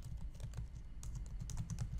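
Code is typed on a computer keyboard in a rapid, uneven stream of close key clicks and taps, steady throughout with no voice.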